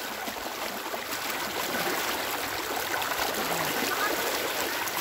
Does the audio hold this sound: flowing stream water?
yes